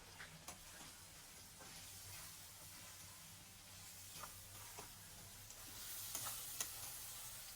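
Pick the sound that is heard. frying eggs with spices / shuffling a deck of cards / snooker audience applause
frying eggs with spices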